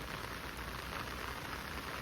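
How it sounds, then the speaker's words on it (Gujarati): Heavy village rain pours steadily over a farm orchard as a constant, even hiss of drops on surfaces, with no voices. "તો આ વરસાદ આવે છે કયો મેળનો કયા મેળનો આવે છે આઈ ડોન્ટ નો બટ આવે છે જોરદાર"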